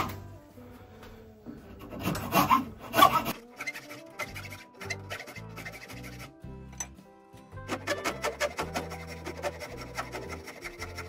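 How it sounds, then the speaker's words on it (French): An Oryu hand rasp files wood in quick rhythmic rasping strokes, coming in two bursts separated by a pause, close and fairly loud over a low tonal hum in the background. "la lime de chez Oryu, j'aurais dû prendre une piqûre plus grosse"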